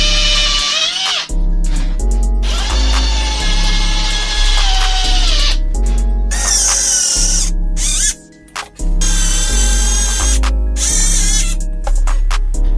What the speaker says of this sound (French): Donc maintenant c'est ce qu'on va se faire avec la perceuse les gars.